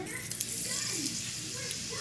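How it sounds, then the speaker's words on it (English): A steady, soft sizzle of tortillas frying in a hot pan, with faint clatter and a quiet hum of voices in the background. "Frying up some tortillas."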